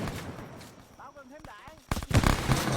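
A frag grenade detonating in a first-person shooter video game, a loud, close, booming burst with rumbling debris that cuts in after a brief stretch of someone talking.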